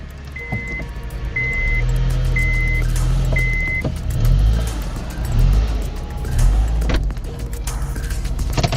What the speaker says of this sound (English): Go ahead, start the car, drive it up on the jack stands.